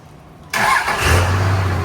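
A 2nd gen Cummins diesel pickup with an automatic transmission and no blow-by cranks and catches abruptly, settling into a loud, steady rumbling idle close by.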